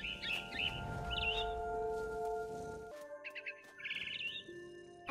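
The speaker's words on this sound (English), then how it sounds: "It was a barn swallow going back to her nest." Barn swallow chirps in a Nintendo Switch game, bright repeated tweets in short bursts over a steady musical drone, with a brief pause midway before more chirping resumes.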